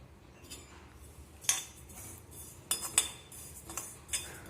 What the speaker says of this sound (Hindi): अब मैं इसमें अजवाइन डालती हूँ।